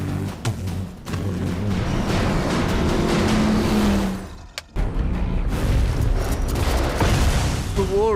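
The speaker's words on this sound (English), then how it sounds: "So, a pair of 1959 Cadillac Coupe de Villes. It's two V8 engines locked together into one shaft." Twin V8 engines taken from a pair of 1959 Cadillac Coupe de Villes, locked together on one shaft, roar loudly and steadily in a deep rumbling drone with booming bursts, briefly dropping off before surging again.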